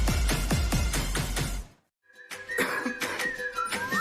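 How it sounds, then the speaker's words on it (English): Several harsh, rapid coughs burst out in a quick series at close range, followed after a brief pause by music and other ad sounds in a medication commercial. "Coughing and throat feeling sore?"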